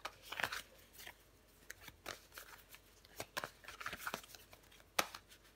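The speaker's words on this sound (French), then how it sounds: "Je vais recouvrir des cartes" Tarot cards handled and turned over in a quiet room, a run of soft papery slaps and slides in brief bursts, close and fairly faint, with a few sharper flicks as cards land.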